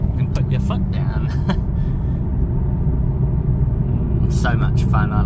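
A Nissan 370Z sports car engine rumbles steadily with strong low-end roar under acceleration, holding a constant drone throughout, with brief higher noises near the start and end.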